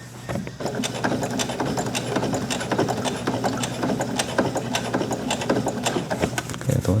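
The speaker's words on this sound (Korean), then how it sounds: "그래도 지금 재봉 잘 되고 있습니다" Sewing machine stitching through rattan, a steady, rapid mechanical clatter of needle strokes running continuously at close range with no talk.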